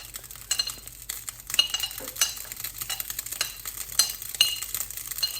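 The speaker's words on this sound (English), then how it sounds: "we will mix them evenly to make sure that the curry has covered up all the mushrooms" Mushrooms stirred into curry cooking inside a hollowed watermelon give a steady run of wet, squelchy scraping and soft clicks from the utensil, close and busy, with no voices.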